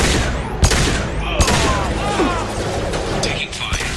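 Gunfire in the Mass Effect video game: a few sharp, loud shots and bursts ring out over a busy battle din of rumble and mechanical noise, with voices present.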